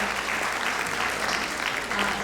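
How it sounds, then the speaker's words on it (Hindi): An audience at an Indian Independence Day program claps loudly and steadily, a dense burst of applause filling the hall without pause. "तो आइए ताली एक जोरदार बनती है"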